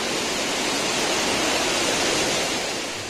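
Palaruvi waterfall near Aryankavu in Thenmala, Kerala, roaring with a loud, dense, unbroken rush of falling water close by, with no voices.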